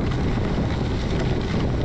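Steady wind roaring across the microphone during an 80 km gravel bike race, a dense, unbroken rush with no voices.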